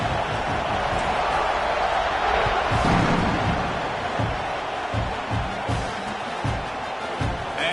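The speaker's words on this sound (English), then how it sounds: "this crowd is buzzing after that last score." Steady roar of a college football stadium crowd buzzing after a score, loud and continuous with scattered shouts and a few thumps throughout.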